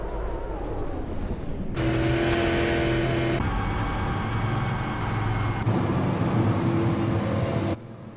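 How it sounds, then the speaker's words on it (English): Strained, uneven engine note of the damaged No. 52 super late model race car at the Milwaukee Mile, a loud sustained drone with shifting pitch that cuts off sharply near the end. "you can definitely hear the struggle of that engine"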